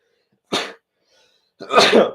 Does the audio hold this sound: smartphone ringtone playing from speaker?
no